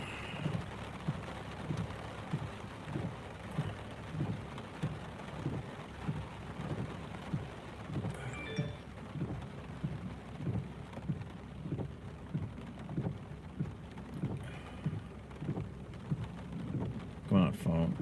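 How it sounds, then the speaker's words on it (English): Rain falls outdoors in Cleveland beside a vehicle, a steady soft patter under a run of regular low thumps, with brief voice sounds near the end. "Because it's raining."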